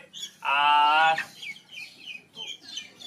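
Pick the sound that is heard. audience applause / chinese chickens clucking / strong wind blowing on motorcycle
chinese chickens clucking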